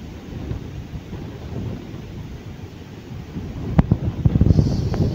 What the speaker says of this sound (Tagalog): Lakas ang hangin, no? Lakas ng hangin, mga puno